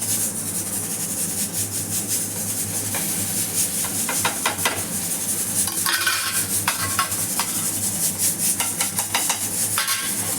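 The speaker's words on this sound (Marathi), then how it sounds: "तेलाची कढई आहे. जर तेल कमी असेल तर थोडंसं तेल टाका आणि मग त्याच्यात परतून द्यायची." An onion mixture sautés in oil in a kadhai as a spoon scrapes and stirs in quick repeated strokes over a steady soft sizzle, close and fairly loud.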